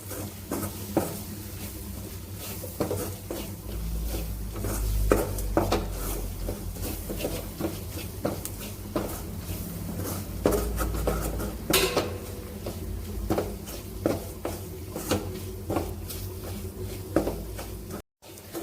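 Spice powders sizzling and being stirred in a pan for a Kerala-style liver curry, with steady clinks and scrapes of a spoon against the metal over a continuous fry hiss, close and busy with no talking.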